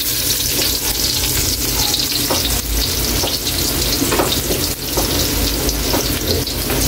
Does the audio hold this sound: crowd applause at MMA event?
no